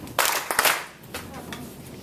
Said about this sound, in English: 2 claps, please